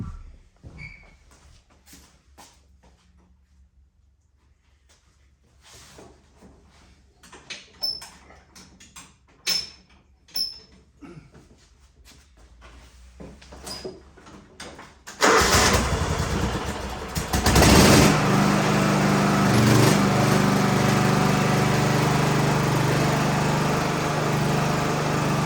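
A John Deere riding mower fitted with a swapped-in Kawasaki engine is started outside in 27-degree cold, first quiet clicks and handling, then the engine catches and runs loud and steady, close by.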